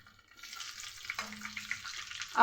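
Four bay leaves dropped into oil left over from cooking chicken, a soft crackling sizzle that starts after a moment of quiet and swells at the close.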